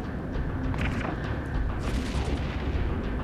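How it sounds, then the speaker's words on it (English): Missile launcher fire in the space combat game EVE Echoes: dense, continuous booming and rumbling volleys with overlapping thuds and bursts, loud and close, with no pauses. "the prophecy is using medium missiles, and I think they are using one large missile launcher"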